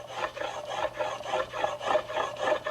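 A hand rubs finish into the grain of a wooden chaise in steady back-and-forth strokes, about three per second, a close, soft, raspy scrubbing with no talking.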